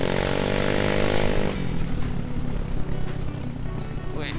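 Yamaha Mio M3 motorcycle, a 2020 model fitted with a loud aftermarket exhaust, revving with a steady harmonic engine drone that drops into a rougher, rumbling idle partway through, close and loud.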